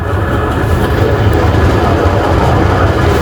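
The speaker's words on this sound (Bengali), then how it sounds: "অনেক দ্রুত গতিতে যাচ্ছে আমাদের ট্রেন" Our train rolls along at speed, a steady, loud low rumble of wheels and carriage noise, continuous and close from inside the coach.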